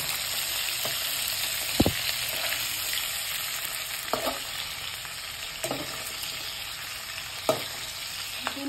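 Prawns frying in oil in a pan for an Odia prawn and ridge gourd curry, a steady broad sizzle throughout with a few brief clicks of stirring, close and moderately loud, no voices.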